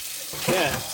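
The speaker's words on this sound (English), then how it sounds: "put the water in" Water runs from a tap into an Instant Pot holding beans, a short rushing splash that swells midway as the stream fills the pot.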